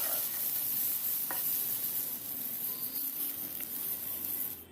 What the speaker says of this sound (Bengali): কুলগুলো আমি হালকা ভেজে নিচ্ছি যাতে এর মধ্যে